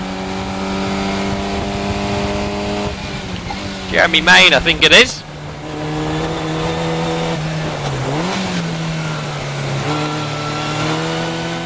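Historic Formula Ford 2000 race cars roar past at Croft circuit, engines droning with rising and falling pitch and a sharp burst of revving as one car passes close, under continuous race commentary.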